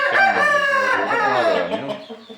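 A broody mother hen on a farm in Ordu gives a loud, close, drawn-out clucking call, harmonically rich and wavering before trailing off into a few shorter clucks.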